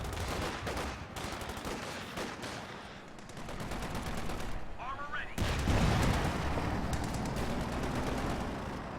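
Explosive HE round fired in Company of Heroes 2 during a match between OKW and USF forces, a heavy boom landing midway amid continuous gunfire and battle noise, with a commentator talking throughout.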